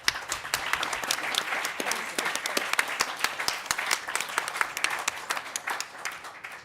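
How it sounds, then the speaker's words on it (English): A burst of applause from a panel discussion audience, dense clapping that swells and continues steadily, fairly loud and close, with no talking over it. "the round of applause bursts out"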